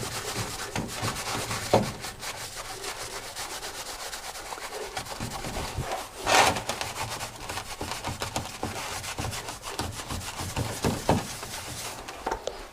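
A cloth soaked in brake cleaner rubs and wipes across a nickel-plated Rolls-Royce Merlin engine starter part, a soft, continuous scrubbing with a few louder strokes, close by and without talk.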